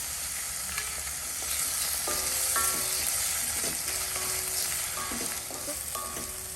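Chopped tomato and salt frying in a pan for egg kheema masala, a dense, continuous sizzle with scattered metallic clinks from stirring and no voices.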